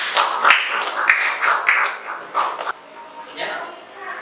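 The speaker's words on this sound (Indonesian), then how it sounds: "Oke, tepuk tangan ya." Classroom audience clapping in a teacher-training session, a smattering of irregular claps from several people, moderately close, fading after a few seconds with voices mixed in.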